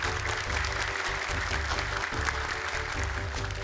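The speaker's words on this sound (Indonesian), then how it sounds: "Boleh tepuk tangan untuk pembagian kelompoknya." Audience applause during the Indonesian Quran memorization competition show Hafiz Indonesia 2025, dense sustained clapping from a studio crowd at steady loudness throughout.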